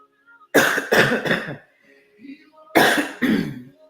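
Two bursts of harsh coughing, each a quick run of two or three coughs, close and loud, separated by a short quiet pause.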